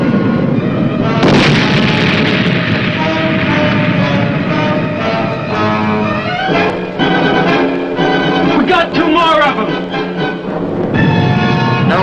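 Wartime submarine firing torpedoes electrically in groups, heard as a run of booming launches and bursts over a constant dense mechanical roar, loud and close, with no speech.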